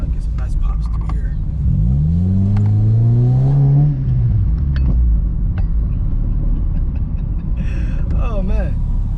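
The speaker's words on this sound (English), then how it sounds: "Get some nice pops through here." A car with a Skunk2 exhaust revs sharply, its rising growl peaking and falling back to a deep idle rumble, with a second quick rev near the end; the pops themselves are not clearly distinct.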